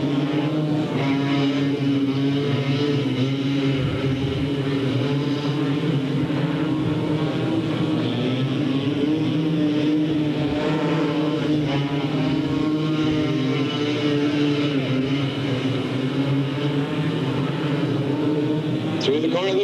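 Race cars roar off at the green flag at Delta Speedway, a steady loud layered engine drone with shifting pitches filling the whole stretch.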